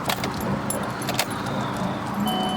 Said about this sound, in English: Turn the key on and off a couple times